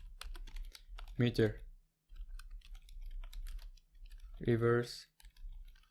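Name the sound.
typing Metasploit commands on computer keyboard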